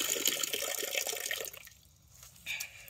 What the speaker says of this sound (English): And I'll fill his water up.